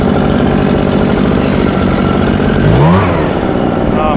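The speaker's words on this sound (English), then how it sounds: "The wind's working against us." Strong outdoor wind blows leaves back, heard as a loud, continuous low roar of buffeting close to the microphone, with a brief rising tonal sweep near the end.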